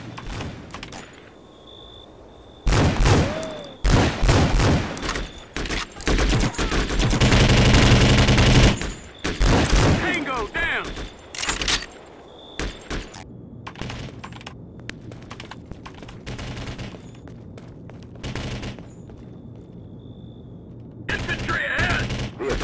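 Combat in Conflict: Global Storm, with repeated bursts of machine gun fire and rifle shots coming in irregular volleys. A long, intense barrage builds in the middle, and quieter gaps fall between the loud, close bursts.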